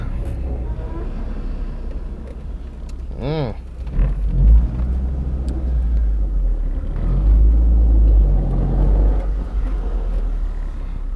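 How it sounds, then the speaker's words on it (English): Mitsubishi Mirage driving after a steering hub repair, a steady low road rumble and engine drone from inside the car with a rising and falling tone early on, at moderate loudness and without clear talk. "The car rides perfectly straight."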